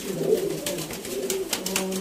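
Sialkoti pigeon cooing in soft, repeated low throaty phrases across two seconds, close and clear with faint background hiss.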